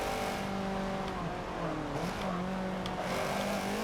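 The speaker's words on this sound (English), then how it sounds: "having a car chase through Lower Wacker Drive" Racing car engines roar steadily at high revs during a car chase through Chicago's Lower Wacker Drive in the video game Forza Motorsport 7, with shifting engine tones and brief tire noise throughout.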